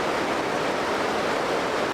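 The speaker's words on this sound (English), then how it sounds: "Hearing the water splash is cathartic" Water splashes at Vickery Creek waterfall, a steady, dense rushing hiss heard close and fairly loud, continuous for the whole stretch with no voices.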